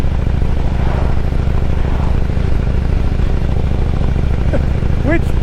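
A motorcycle on the move gives a steady, loud engine drone mixed with wind rush, with someone talking over it throughout.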